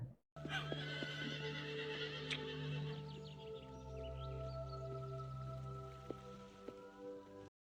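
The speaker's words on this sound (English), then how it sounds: "Horses." Horses in a green countryside scene from the film 28 Days Later whinny and neigh loudly up close, with a long drawn-out call, a few sharp snorts and faint background patter.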